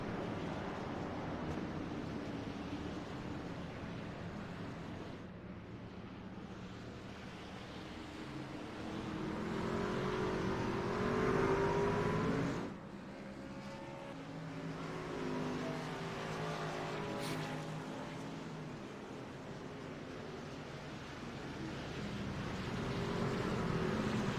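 Race trucks at Bristol Motor Speedway's dirt-covered track roar in a steady, dense engine drone, the pack swelling louder and fading as it passes, with no talk over it.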